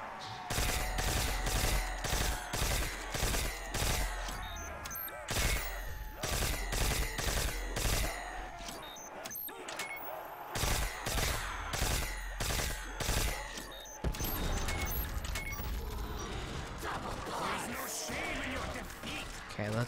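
Rapid bursts of gunfire from a Call of Duty World at War custom zombies map, dense volleys of shots for most of the stretch, then a busier, noisier gameplay mix toward the end, with a voice talking over it.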